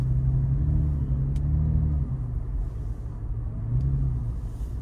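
A 2023 Toyota Tacoma TRD Pro's engine rumbles steadily while driving, a low continuous drone that swells slightly as it accelerates, heard from inside the cab.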